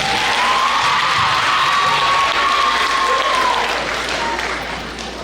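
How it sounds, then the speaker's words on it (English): Audience applause with a few cheers fills a school hall at a middle school family literacy night, steady and dense before tapering off toward the end, with a faint voice mixed in. "Please give them a round of applause."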